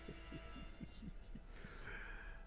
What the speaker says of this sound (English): I don't be liking the sound of a heartbeat